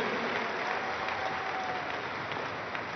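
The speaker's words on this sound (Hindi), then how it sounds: "एक बार जोरदार तालियों द्वारा इसका अभिनंदन आप सब लोग करें।" Steady, dense applause from a large audience at a summit marking Arya Samaj's 150th anniversary, filling the space at an even, sustained level with no voices heard over it.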